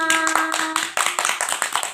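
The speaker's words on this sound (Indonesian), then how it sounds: "Tepuk tangan." A burst of sharp, rapid clapping from a small group after a classroom storytelling assignment, steady and fairly close, with a brief faint tone at the start.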